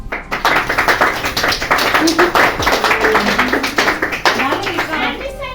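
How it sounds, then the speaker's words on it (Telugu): Children clap along while singing happy birthday at a simple home birthday party, a quick rhythmic run of claps under lively overlapping young voices. "చిన్న పిల్లలందరూ పాట పాడాలి హ్యాపీ బర్త్డే టు యు అది క్లాప్స్ కొట్టండి"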